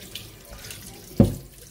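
Water runs from a kitchen tap into a sink while raw chicken is rinsed for roasting, a low steady trickle with a brief louder splash partway through and no talking.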